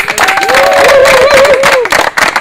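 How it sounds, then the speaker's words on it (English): A crowd claps and cheers loudly for the winning football team at a tournament, with sustained applause and a voice or whistle-like tone rising over it, continuing steadily throughout. "Congratulations and a big round of applause to our winning team today."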